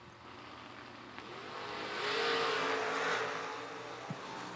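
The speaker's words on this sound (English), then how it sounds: "trying to hold off beautiful Corvette of Mr. Cooter, dialed 513." A Corvette and a drag race car run down the strip, a distant engine roar that swells to a peak and fades, faint beneath the crowd and track ambience.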